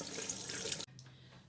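Sea moss is rinsed under a running kitchen tap, a close, steady splash of water that cuts off abruptly partway through, leaving a faint drip and quiet hum.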